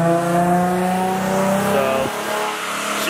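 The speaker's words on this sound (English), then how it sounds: "That is the sound of my Z with a new headers and exhaust setup." A Nissan 350Z engine with new headers and aftermarket exhaust revs hard through a loud, raspy exhaust, its tone climbing and then dropping off sharply near the end, with no voices.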